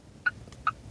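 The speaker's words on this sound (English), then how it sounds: "And then your indicators on the left side, and it makes this," A Geely E2 electric car's turn indicator ticks twice inside the cabin, giving two short, evenly spaced, faint chirp-like clicks over a quiet background.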